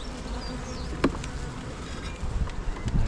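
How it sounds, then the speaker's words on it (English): Honey bees buzz in a dense, continuous swarm around an open hive just after being shaken out in front of it, a close, steady drone with brief sharper knocks. "I've just shaken the bees out in front of the hive"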